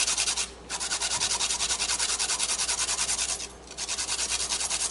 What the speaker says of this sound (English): I just peeled it and I'm gonna grate it in here.